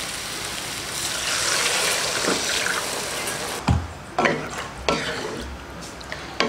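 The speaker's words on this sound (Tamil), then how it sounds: "தண்ணி ஊற்றிடலாம்." Water splashing into a pot of cooking lentils and vegetables, a loud continuous gush for several seconds, then a few short sloshing pours and clinks as the stream stops and restarts.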